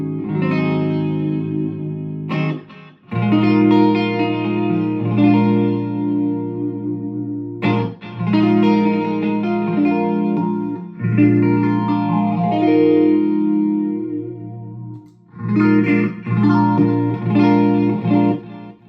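Electric guitar played through a Rainbow Machine pedal in a Steve Vai live rig with a Friedman BE-100 amp, producing a shimmering chorus tone; sustained chords and melodic phrases ring out loud and close, separated by brief pauses, with no talking.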